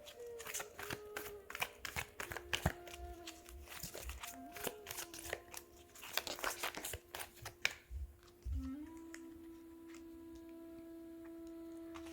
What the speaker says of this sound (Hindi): सबसे पहले हम आपकी कार्ड शफल करते हैं